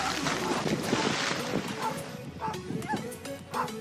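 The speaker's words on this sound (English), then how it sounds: "when a small dog ran into 6 seals" A small dog barks in short sharp yaps at a group of six seals on a shore, a few brief barks over wind noise on the microphone, with voices briefly in the background.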